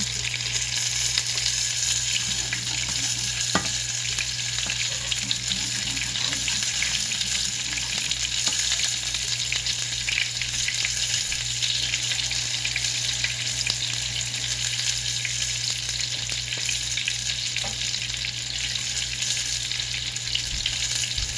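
Flour cooking in a pan as a roux for Mornay sauce gives a steady, close sizzle and frying hiss that holds even through the whole stretch, with faint stirring scrapes and no voices.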